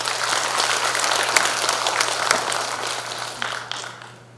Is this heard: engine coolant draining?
no